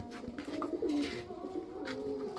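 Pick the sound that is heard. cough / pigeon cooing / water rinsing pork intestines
pigeon cooing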